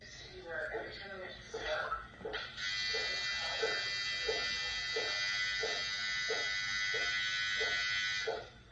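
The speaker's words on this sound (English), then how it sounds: "I was running a coil machine, so you can hear my machine running" Tattoo coil machine running with a constant close buzz that starts after a few seconds and holds steady, with a person talking over it throughout.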